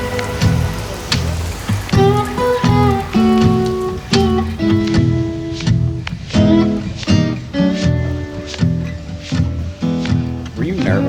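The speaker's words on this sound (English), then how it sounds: "It starts raining right before we get on our cruise." Rain falls before a Great Barrier Reef cruise, pattering steadily beneath continuous music and bustle, with people talking throughout.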